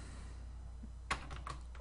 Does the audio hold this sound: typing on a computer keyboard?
yes